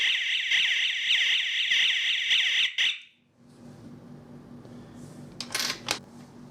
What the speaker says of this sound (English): when the magnetic sensor being triggered, the siren hoot and strobe lights blink